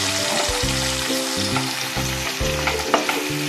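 Paste sizzling and spluttering in hot peanut oil for a paneer chaap dish, a steady dense fry with periodic scraping strokes of a spoon as it is stirred; loud, close, with no talking.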